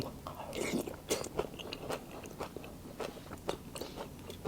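Crispy pork eaten with tam sua, a papaya salad with noodles: close, crunchy bites and wet chewing with repeated sharp crackles at an uneven pace, and a faint voice in the background.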